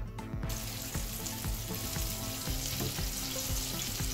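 Rice and beans cook in a covered pot over the heat, giving a dense, continuous bubbling hiss with soft, regular ticking pulses, close and unbroken.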